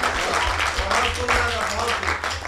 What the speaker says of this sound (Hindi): ये तालियां मेरी कविता पे बजा रहे हो कि सहानुभूति में?